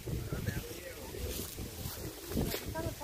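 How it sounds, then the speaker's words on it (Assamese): Steady wind blows by a river, rushing and buffeting against the microphone without a break, with muffled voices faintly underneath. "কি ধুনীয়া বতাহ"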